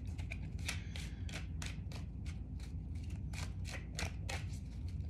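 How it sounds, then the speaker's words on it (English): Tarot cards are pulled and shuffled from a deck in a quick run of crisp, papery flicks and snaps over a low, steady background hum, with no talking. "I want to pull 2 more cards here."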